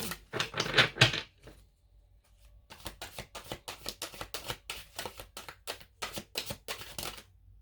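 Tarot cards are shuffled in two runs, a quick riffling flutter followed after a brief pause by a longer series of rhythmic papery slaps, close and fairly quiet.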